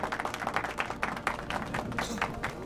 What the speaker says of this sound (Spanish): Los aplausos son bien merecidos.